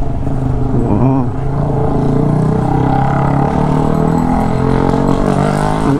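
Motorcycle engine droning steadily while riding a winding mountain road from Cuenca, Lemery, Batangas toward Tagaytay, loud and close with shifting pitch and wind rush, no talk.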